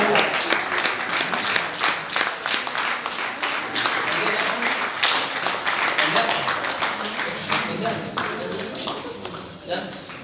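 Audience applause at a college event: sustained, dense clapping from a large crowd for about ten seconds, loud and lively, easing slightly toward the end.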